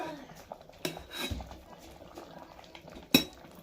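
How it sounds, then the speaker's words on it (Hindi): A spoon clatters and scrapes against a cooking pan while stirring salted radish greens, with a couple of sharp clinks standing out over a low, steady cooking background. "नमक डालने के बाद चम्मच चलाएंगे, इसमें पूरा उलट पलट करेंगे।"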